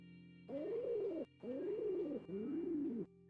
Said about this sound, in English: Later, it's revealed to be a pigeon.